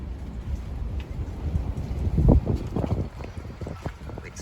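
Gusty south wind buffets the microphone in a steady roar, with water sloshing against a boat close by.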